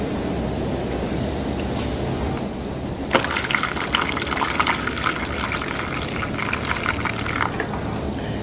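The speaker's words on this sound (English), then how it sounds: "We have to empty the water." Water gushes and splashes as it is poured out of a container while drying material, a steady liquid rush that turns brighter and louder partway through and continues to the end.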